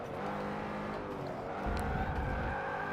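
Zenvo ST1 sliding through a corner in Forza Motorsport 7, engine roaring steadily with a brief tire scrub midway and rumble growing as power comes back on, close and continuous.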